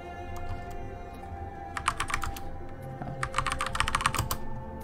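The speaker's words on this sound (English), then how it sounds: "Alright, fine, I'll do it with the keyboard." A computer keyboard being typed on to enter a code in the game Ori and the Blind Forest, with quick clusters of clicking keystrokes over a steady background hum.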